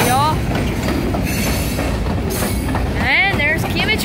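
A Kiamichi Railroad freight train with tank cars rolls past close by in Idabel, Oklahoma, with a loud continuous rumble, rattling wheels and high squealing bursts from the wheels near the start and again later.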